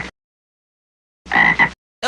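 A frog gives a single short, raspy croak lasting about half a second. It stands out clearly against near silence, with faint clipped sounds at the very start and end.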